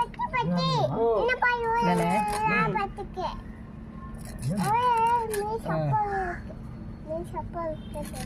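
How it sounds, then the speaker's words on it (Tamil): Several cats meow repeatedly in rising, drawn-out cries, close and fairly loud, mixed with a voice and an adult talking nearby at a fish stall. "எத்தனை பூனை இருக்கு பாரு"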